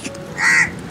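A crow chasing a pigeon gives one loud, close, harsh caw lasting about half a second.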